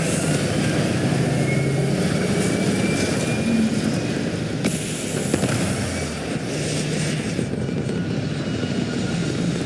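Spaceship engines roar at launch in the Starfield video game, a loud, steady broadband rumble with a crackling texture that holds throughout without letting up.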